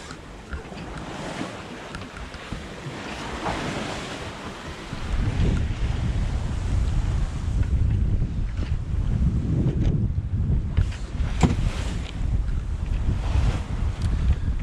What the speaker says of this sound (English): waves as well, which are slowing us down, hitting the bow.